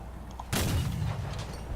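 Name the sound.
gun firing during a test in video game Crossout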